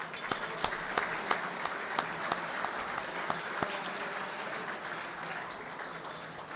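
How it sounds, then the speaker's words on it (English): Dinner guests at a past champions' celebration for a golf amateur championship at The Homestead applaud the staff with sustained, even clapping from a roomful of people, fairly faint and distant, with no talking over it. "Let's give the Homestead staff a round of applause."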